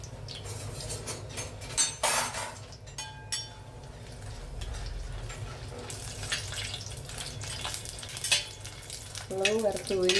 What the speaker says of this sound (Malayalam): എണ്ണയ്ക്കകത്ത് വറുത്ത് കോരിയെടുക്കാം. ആദ്യം നമുക്ക് മുളകാണ്